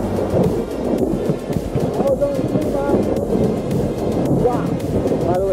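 Thunder rumbles loud and continuous through a storm, with rain and wind buffeting the microphone; the roar holds steady throughout, with no speech.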